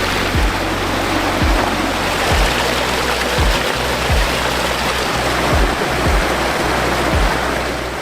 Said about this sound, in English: So they also have a huge water fountain down here.